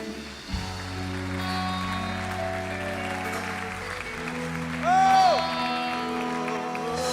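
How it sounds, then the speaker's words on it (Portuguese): A church congregation applauding during a Portuguese-language service, steady clapping mixed with sustained organ or keyboard chords and a brief swell of cheering, with a voice briefly heard. "Vamos ficar em pé enquanto você aplaude o Senhor, igreja."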